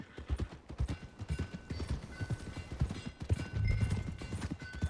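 Horse hooves clip-clop steadily on a trail in the video game Red Dead Redemption 2, a fairly close, continuous rhythmic clopping over a low rumble with faint background ambience and no talking.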